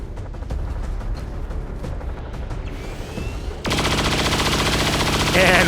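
Gunfire from a rapid fire shot in XCOM 2 rings out amid battle ambience, then a sudden loud, sustained crackling blast of shots and impacts takes over and grows even louder at the end.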